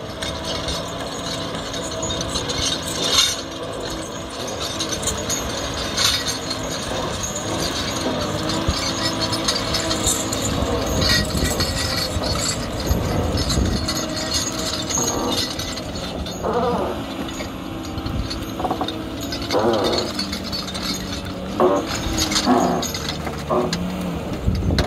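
Tigercat 632E skidder working in the woods hauling a heavy load of logs, its engine droning loud and steady with clanking, ratcheting mechanical rattles and shifting metallic knocks throughout.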